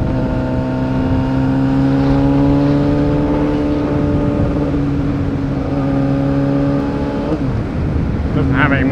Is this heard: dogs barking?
no